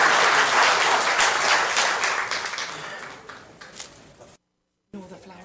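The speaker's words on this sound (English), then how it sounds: "Let's give them a big round of applause" Applause at a city council meeting honoring local men and women, loud and dense at first, then thinning and fading before a brief dropout, with talk resuming afterward.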